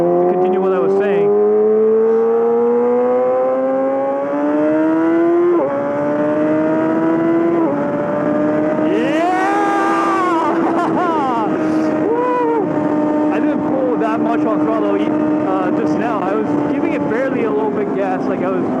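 Yamaha R6 sport bike with a full M4 exhaust system, recorded close while riding. The engine note rises steadily through the gears, with sharp drops at each shift and a surge of revs, over steady wind rush.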